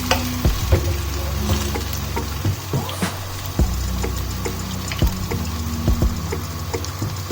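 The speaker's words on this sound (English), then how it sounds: "You think that you are deep frying the butter" Continuous bubbling sizzle of butter pieces deep frying in hot oil, with occasional clicks and soft knocks from stirring, no voices.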